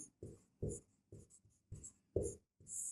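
A pen or marker writing out a table of plant counts, heard as a series of short, distinct strokes in an uneven rhythm, close and fairly quiet with brief pauses between them.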